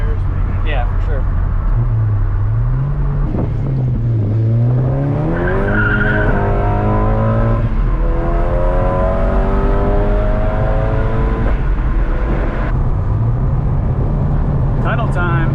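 A tuned VW MK6 GTI with a Stage 3 K04 tune and stretched tires spins its wheels, tires squealing and engine revving in rising and falling sweeps, close and loud, while people talk over it.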